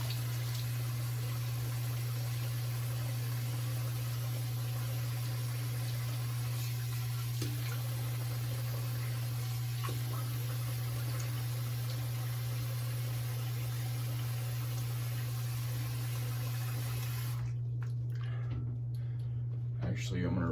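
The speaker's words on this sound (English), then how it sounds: "I'm gonna rinse my face" Water runs steadily from a tap as a face is rinsed after a wet shave. The close, even rush sits over a constant low electrical hum and cuts off abruptly near the end, leaving scattered faint drips.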